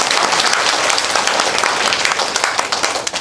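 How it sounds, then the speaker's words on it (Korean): A church congregation applauding together, dense loud clapping from many people filling the room, steady and then tapering slightly at the end. "이 박수 한번 더 치세요"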